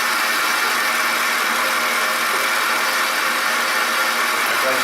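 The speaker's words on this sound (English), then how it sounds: "Then reach down to the AC compressor." A car engine idles steadily, heard up close near the AC compressor and belt tensioner pulley, a continuous even mechanical whir and hiss with no break and no voices.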